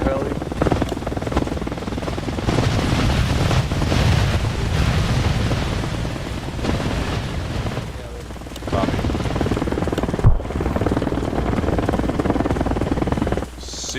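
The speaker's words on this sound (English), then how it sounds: "That enemy, that might be an enemy heli." A helicopter in the video game Arma Reforger makes a continuous whooshing rotor drone mixed with wind-like noise. It dips briefly near the middle and again near the end.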